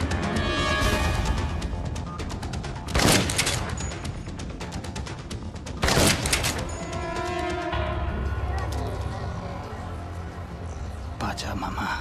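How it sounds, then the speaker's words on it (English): Gunfire from the floor above during a Dead Rising cutscene: two short, sharp bursts of shots a few seconds apart, heard over a constant bed of background sound. "Someone shooting from the floor above."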